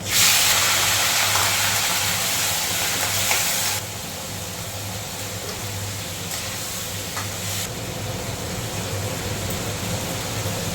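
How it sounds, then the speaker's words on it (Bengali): Shrimp frying in hot oil in a wok, seasoned with salt and turmeric, give a loud, dense hissing sizzle for the first few seconds that then settles into a steadier, softer frying crackle, with no talking. "এবার আমি চিংড়ি মাছগুলো ভেজে নেবো।"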